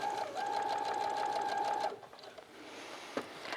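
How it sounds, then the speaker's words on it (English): Sewing machine stitching a gusset seam, overlapping slightly onto the original seam: a steady close motor hum with rapid needle rhythm for about two seconds, then stopping to quiet handling noise. "I'm going to start sewing on the original seam so I overlap just a little bit"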